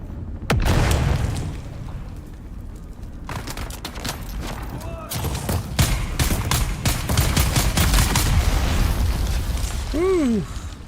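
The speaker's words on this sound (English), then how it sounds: "Grenades, oh my gosh." Grenade explosions and bursts of gunfire in the Dune survival game, loud and close, with repeated booms and rapid clusters of shots throughout.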